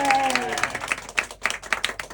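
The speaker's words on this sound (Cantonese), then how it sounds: "我俾掌聲自己，耶！" Audience applause at the opening of a live stand-up comedy show, a brief burst of clapping that follows a short vocal cheer and thins into scattered claps.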